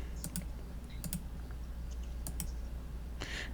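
Typing on a computer keyboard while working on a garage design project, with sparse, close clicks in small bunches over a low steady hum.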